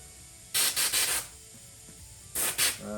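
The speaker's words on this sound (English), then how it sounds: "Start spraying this thing." Spray paint can hissing onto a clear Lexan body for a Pro-Line Traxxas UDR RC truck, in two bursts: three quick sprays in a row, a pause, then two more, close and crisp over a faint background.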